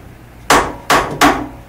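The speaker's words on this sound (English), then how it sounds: "tap it down so that the parallels are completely tight" A part is tapped down in a mill vise to seat it tight on parallels, giving three sharp, close hammer knocks spaced about half a second apart, with quiet between strikes.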